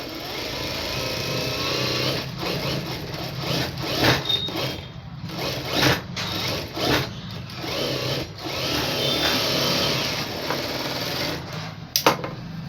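A sewing machine stitches blouse lining in several quick bursts, its whirring motor starting and stopping between short pauses, close and clear with no talking.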